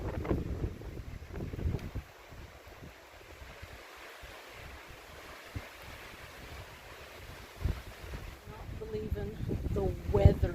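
Strong gusting wind roars across the microphone on a mountain hike to Waterrock Knob during a sprinkle of rain, loud buffeting bursts at the start and again toward the end with a steadier rush between.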